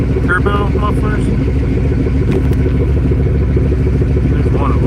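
Car engine running through a homemade exhaust with Thrush turbo mufflers, a loud, steady, rumbling drone close by with someone talking over it.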